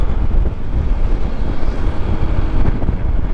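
Loud, steady wind roar buffets the microphone while riding a Honda ADV160 scooter, a continuous rushing rumble like riding at speed on an open road.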